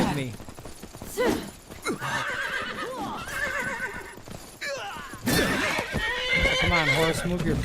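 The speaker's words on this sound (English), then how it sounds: "Come on, horse, move your fat ass." A horse in Myth of Empires whinnies loudly and repeatedly over hooves and battle clatter, the neighs rising and falling, with someone talking at the same time.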